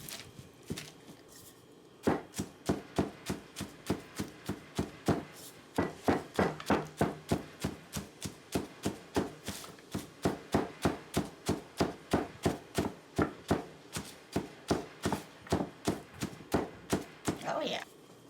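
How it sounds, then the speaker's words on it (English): Salted cabbage for sauerkraut is pounded and mashed in a steady rhythm of dull, close thuds, several dozen blows at about two per second, with a voice talking faintly underneath at times. "And pound until you get it nice and mashy"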